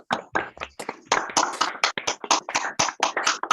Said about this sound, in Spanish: Desmutémonos para aplaudir este primer encuentro